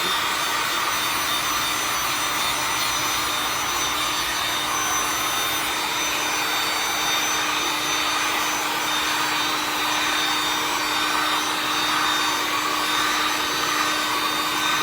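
A heat gun blows steadily while warming poured acrylic resin to level it on a painting, a constant loud whooshing roar with a faint high whine, unbroken throughout.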